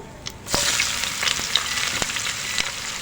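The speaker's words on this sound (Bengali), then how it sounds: "পেঁয়াজটাকে একটু হালকা ভেজে নিচ্ছি" Chopped onion and nigella seeds frying in hot oil, a close steady sizzle that starts after a brief quiet moment, with light stirring scrapes now and then.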